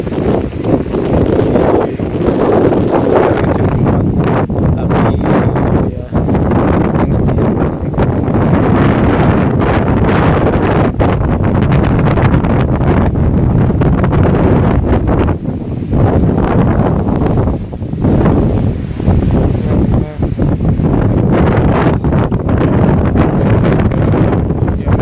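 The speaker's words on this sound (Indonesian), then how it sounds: "di video kali ini masih membahas tentang angin kencang di Korea ya" Strong gale-force wind in South Korea roars continuously across the microphone, loud buffeting gusts with rustling throughout and no talking.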